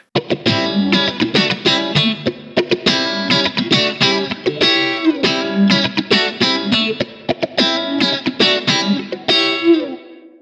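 Electric guitar with a sweeping filter effect, a fast run of plucked notes each closing down in tone, steady and close.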